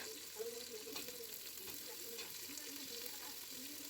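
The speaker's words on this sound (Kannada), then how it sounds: "ಈರುಳ್ಳಿನ ಚೆನ್ನಾಗಿ ಫ್ರೈ ಮಾಡ್ಕೊಳ್ಬೇಕು ಈ ಶುಂಠಿ ಬೆಳ್ಳುಳ್ಳಿ ಮತ್ತು ಈರುಳ್ಳಿ ಹಾಕಿದ್ರೆ" Onion, ginger and garlic fry in a pan as a soft, steady sizzle with faint clinks of stirring, quiet and close, with no talking.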